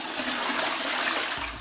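A toilet flush used as a sound effect gives a loud, close rush of swirling water that runs on without a break.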